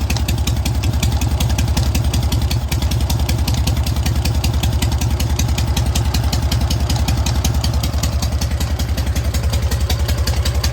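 A freshly overhauled K750 motorcycle engine idles steadily and close by on retarded ignition, with a fast, even, throbbing pulse and a mechanical clatter that holds for the whole stretch.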